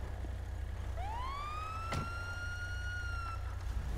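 In a GTA video game, a single siren wail rises and holds steady for a few seconds at moderate distance, standing alone over a low rumbling background, with a brief sharp click partway through.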